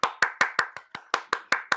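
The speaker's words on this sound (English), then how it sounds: "Round of applause, please, everyone." Hands clapping in a sharp, steady rhythm of about ten distinct claps, close and clear, at a refugee week writing showcase as a guest is welcomed to the stage.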